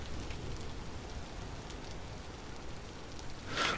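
Steady rain falls in the video game Vintage Story, a continuous hiss of drops on surfaces that stays even throughout and swells briefly louder near the end.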